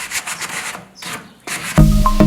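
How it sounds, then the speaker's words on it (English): Medium-grit sandpaper rubs lightly over milk-painted furniture in several quick, close scratchy strokes, with a short pause in the middle and a louder, rougher noise cutting in at the very end. "I'm just gonna lightly kind of sand some of these areas"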